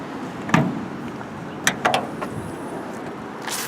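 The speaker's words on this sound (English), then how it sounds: "We're going to pop the trunk in the motor compartment." The front trunk of a Porsche 911 is released with a soft early clunk, then a pair of sharper latch and lid knocks a second later, all close by over a steady background hiss; no talking.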